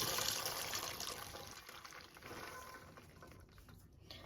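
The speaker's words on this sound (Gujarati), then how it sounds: "હવે આમાંથી આપણે પાણી કાઢી લઈશું એક" Water drained off boiled peanuts into a vessel makes a soft, continuous splashing trickle, faint and close, gradually easing toward the end.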